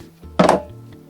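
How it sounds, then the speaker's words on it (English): Magazine pulled from a Kingdom Technology Tec-9 airsoft gas blowback submachine gun, a single short metallic clack, close and moderately loud, heard alone against quiet room tone. "Let me just take the mag out."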